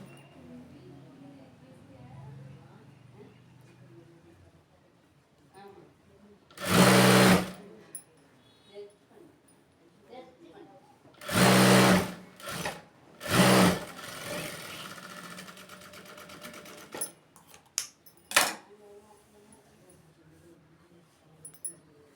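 A sewing machine runs in three or four short, loud whirring bursts while stitching a blouse, with quiet talking and handling sounds in between.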